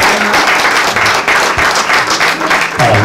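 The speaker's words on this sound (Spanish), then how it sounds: "Fuerte ofrenda de aplauso" A church congregation bursts into loud, close applause during an evangelistic service, a thick continuous clatter of many hands with faint voices and low tones mixed underneath.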